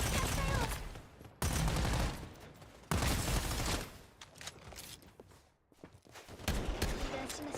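Gunfire in a first-person shooter multiplayer match, with several loud sustained bursts broken by sudden cutoffs and quieter stretches.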